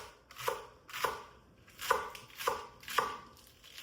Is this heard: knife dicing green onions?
yes